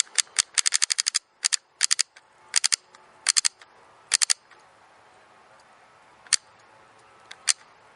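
Tokyo Marui TM15 airsoft gun being fired, its trigger working in burst and semi modes: rapid sharp clicks in quick clusters and triple bursts, then a few isolated single shots, close and loud over quiet room background.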